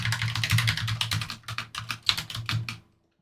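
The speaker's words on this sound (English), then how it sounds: "what you want to do is simply type in the server's name" Rapid keystrokes on a computer keyboard as a server name is entered on a PC, a close, steady burst of clicky taps that stops abruptly near the end.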